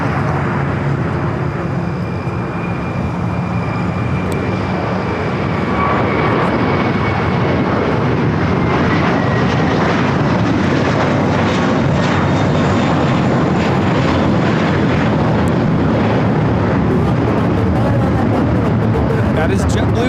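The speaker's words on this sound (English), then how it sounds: "That is JetBlue 324 taking off to JFK on the A321." A JetBlue Airbus A321 takes off from LAX bound for JFK, its engine roar loud and sustained and rising slightly as it climbs, with people talking over it.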